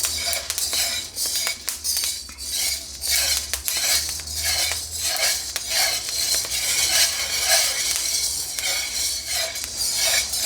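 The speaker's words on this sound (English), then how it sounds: "we're getting some of those louder pops of second crack happening" Green coffee beans roast in a carbon steel wok at second crack, giving dense, rapid crackling and sharp pops over a steady sizzle, with occasional metallic clinks from stirring.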